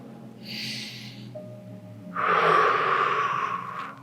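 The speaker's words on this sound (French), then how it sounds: "J'inspire et j'expire." Someone breathing during a gentle morning exercise routine: a soft inhale, a pause, then a longer, louder exhale, heard up close with no talking.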